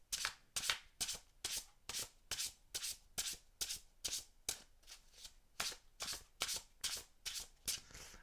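A deck of tarot cards is shuffled over and over in a fast, regular rhythm, each pass a soft, airy riffle, quiet and close with no talking.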